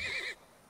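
Horse in the video game Turmoil giving one brief, close neigh that cuts off abruptly into quiet.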